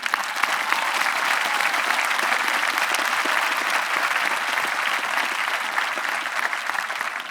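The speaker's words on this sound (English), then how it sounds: "Give yourself a round of applause." Audience applause at a high school graduation ceremony, a dense, steady wash of clapping from a large crowd that holds at an even loudness throughout.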